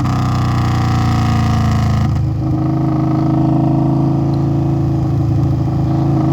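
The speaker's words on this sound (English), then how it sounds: "So as you roll off the throttle, you step on the pedal and kick it down into the lower gear" A motorcycle engine droning steadily, then a brief dip and change in pitch as it drops a gear without the clutch before pulling on again, loud and close with no talk.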